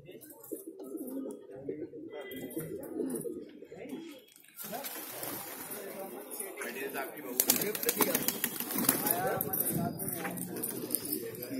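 Pigeons coo repeatedly in a low, throaty chorus close by, with people talking over them and some rustling and splashing in the background.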